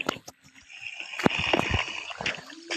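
Water poured from a bucket in Minecraft near a Nether portal build: short splashy gushes and sloshing bursts under a brief game tone, fairly close and quick.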